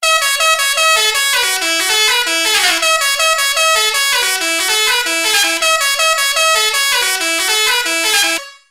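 Vixen Horns six-trumpet chrome-plated musical air horn, VXH6810C, blaring a fast melodic tune of bright brassy notes in quick succession, loud and continuous for several seconds before cutting off.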